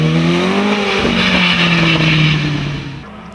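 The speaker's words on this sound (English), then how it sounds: "Here's Simon Harrett's immaculate Formula 2 March BDA." A Formula 2 March BDA single-seater racing up a hillclimb course gives a loud, close engine howl that shifts pitch about a third of the way in, holds a strong sustained note, then fades toward the end.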